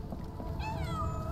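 Cat meowing in the video game Sherlock Holmes The Awakened, a single clear, rising-then-falling meow close by, over a low ambient background with no talk.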